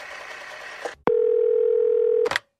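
A telephone line gives a single steady dial tone as a call is placed, loud and unbroken for about a second, following brief noise and ending in a click.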